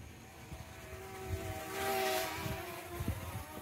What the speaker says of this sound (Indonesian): ini enak banget ya drone S138 ini kalau diterbangkan untuk pemula